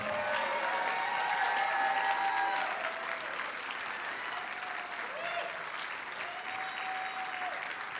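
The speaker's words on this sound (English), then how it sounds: "Let's give them a round of applause." Sustained audience applause at an election night event, a steady broadband clapping wash filling the room throughout, with faint voices and music tones underneath.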